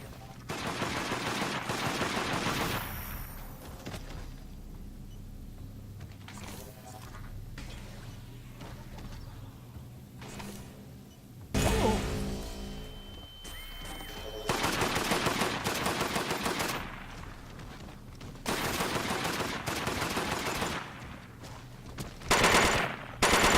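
Gunfire in the Deathgarden hunter game comes in repeated loud automatic bursts separated by quieter gaps, with sharp single shots and mechanical game effects between volleys.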